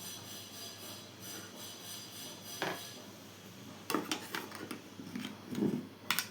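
Ground masala paste mixed with salt in a bowl for village-style fish fry, heard as faint rubbing and scraping with a few sharper clinks of utensil on bowl near the end, quiet and close with no voices.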